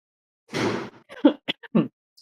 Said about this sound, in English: are you coughing because you're vaping too much?